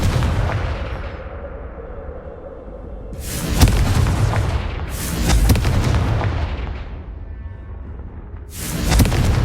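Confringo fire spells in Hogwarts Legacy blast in repeated heavy explosions, three or four loud booming bursts with rumbling decay between them, close and alone.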